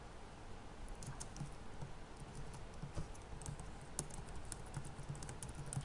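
Fingers typing code on a computer keyboard, a brisk, uneven patter of close key clicks that runs alone without talk.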